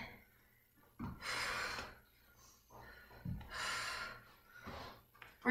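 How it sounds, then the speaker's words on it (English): Heavy, labored breaths during a HIIT workout, in two rounds of loud, rushing inhale-exhale bursts close to the microphone, with quieter gaps between them and almost no talking. "Breathing hard."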